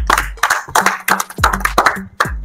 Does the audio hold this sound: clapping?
yes